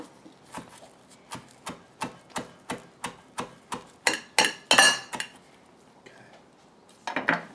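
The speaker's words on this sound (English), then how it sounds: "chop up some chives here" A knife chops chives on a cutting board in about a dozen evenly spaced, crisp strikes, speeding into a quick flurry, then pausing before a few final taps.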